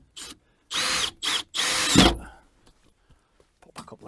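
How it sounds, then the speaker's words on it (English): Power drill driving screws into a polytunnel door, three close, loud bursts of whirring with short pauses, the last winding down with a clunk, followed by quiet. "Pop a couple of screws in to try it."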